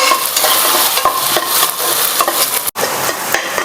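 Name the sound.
onions sautéing with ginger garlic paste in a pan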